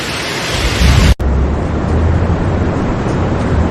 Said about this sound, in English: Italy is hit by hail and strong winds.